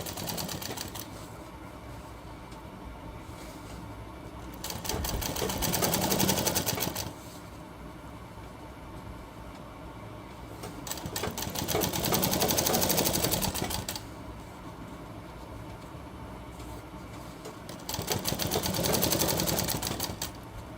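A sewing machine runs in three separate bursts of rapid, steady stitching while it sews a single line along a shirt hem, with quieter pauses of handling noise between runs.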